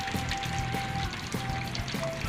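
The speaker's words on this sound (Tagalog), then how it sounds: "So yung tubig na to, ilalagay natin dito." Water pours steadily into a fish tank in a guppy and molly breeding area. The flow is a continuous close splash and gurgle with a few small bubbling surges, and no one speaks over it.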